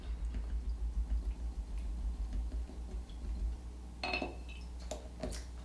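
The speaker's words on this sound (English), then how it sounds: "I'm going to give my brush a really good rinse." A paintbrush is swirled and tapped in a glass jar of water during acrylic painting, giving faint clinks and ticks against the glass, sparse at first, then a brief cluster of sharper taps near the end, close and quiet.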